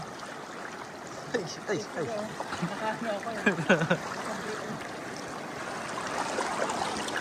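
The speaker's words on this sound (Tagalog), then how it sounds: "Grabe ang lakas ng agos." A strong river current rushes continuously in the background while voices call out and talk over it, with a few splashy bursts midway.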